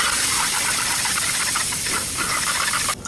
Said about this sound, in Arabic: ننزل بزيت الزيتون، وننزل بالبصل، ونحمص